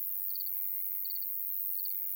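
Grasshoppers chirping in three evenly spaced short, buzzy trills against a faint steady insect drone, alone and fairly quiet.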